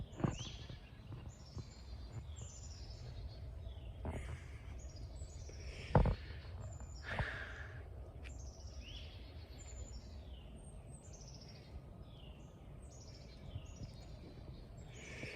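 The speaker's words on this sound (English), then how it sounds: "To hear the birds" Faint birdsong drifts in from a distance, repeated chirps and whistles among trees over a soft outdoor hum, with an occasional quiet knock.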